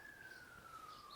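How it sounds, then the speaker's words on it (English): A distant emergency siren wails faintly in the background, one slow descending tone under a low room hum. "with the sirens in the background"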